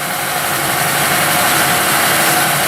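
A Clem engine spins at speed with a loud, steady, dense roar and hum, unbroken and close throughout.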